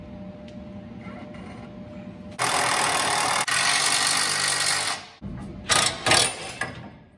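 A ratchet bolts up parts on a Duramax truck build: a loud, steady mechanical clatter runs for about three seconds, then shorter bursts follow after a pause, over a low background hum.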